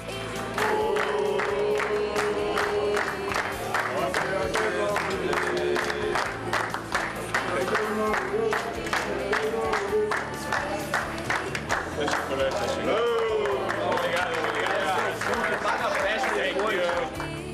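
Teammates and coaching staff applaud at a footballer's birthday cake celebration, a steady rhythmic clapping that runs throughout, with voices talking and calling out over it.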